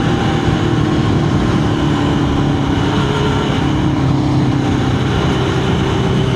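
A Suzuki GSX-R1000 motorcycle engine idles close by, a dense, steady rumble that holds at an even level throughout, with no talk over it.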